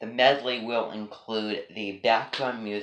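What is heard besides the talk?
No everyday noise stands out behind the speech.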